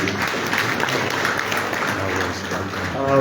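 A round of applause at an ECOWAS Convergence Council meeting, steady crowd clapping for a few seconds with voices mixed in, swelling slightly at the end.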